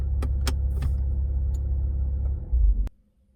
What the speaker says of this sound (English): So this is what happens when I turn the vehicle off.